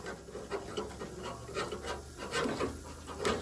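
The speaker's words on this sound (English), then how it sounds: "I'm scraping, but it ain't sticking" Baked parmesan cheese is scraped off a carbon steel skillet in repeated rasping strokes, close and fairly loud, in an irregular rhythm.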